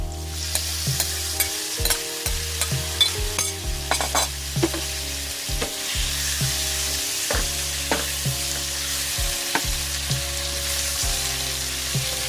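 Pork sizzles and fries in a pan with garlic and onion, a steady loud crackle broken by repeated stirring scrapes and clanks of a utensil against the pan, no voices.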